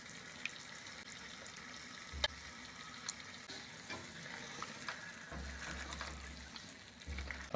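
Yogurt cooking into a tomato and potato masala in a pan for an aloo chicken salan, giving a steady soft sizzle and frying crackle with a few sharp ticks of stirring, close and continuous with no talk.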